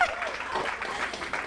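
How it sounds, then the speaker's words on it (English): A small comedy club crowd at The Slipper Room in New York claps briefly, a close, uneven burst of hands with a few whoops mixed in. "Clap it up for him."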